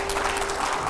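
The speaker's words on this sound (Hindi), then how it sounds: "जोरदार तालियों।" A studio audience bursts into loud, dense applause during a televised news interview, a brief continuous wash of clapping with a steady hum beneath.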